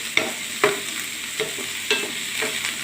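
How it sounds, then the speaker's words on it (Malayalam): Egg bread cutlet mixture stirred in a hot pan, a steady sizzle punctuated by several distinct spatula scrapes and knocks at irregular intervals, close and without speech. "എല്ലാം കൂടി ഒന്ന് മിക്സ് ചെയ്യാം നല്ലോണം ഇളക്കി കൊടുക്കുക"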